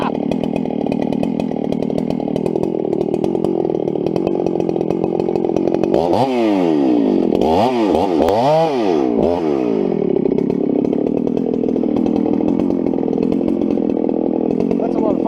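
A chainsaw cuts down trees for firewood, roaring loudly and steadily throughout, its pitch swooping up and down in several revving surges partway through as the blade bites into the wood.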